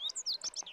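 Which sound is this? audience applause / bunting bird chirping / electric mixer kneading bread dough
bunting bird chirping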